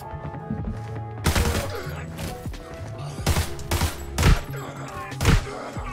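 Gunshots in the shooter Arena Breakout, a sharp burst of loud cracks followed by several separated single shots and short volleys, close and punchy, with no talk over them.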